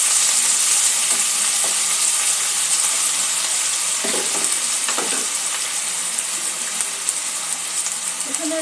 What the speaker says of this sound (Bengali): কারি তৈরি করার জন্য যতটা লাগে একটু নাড়াচাড়া করে দেবো।